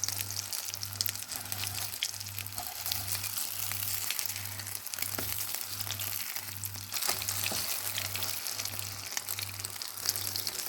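Tuna patties fry in oil in a covered pan, a steady close sizzle and crackle running throughout with a regular low pulsing hum beneath it.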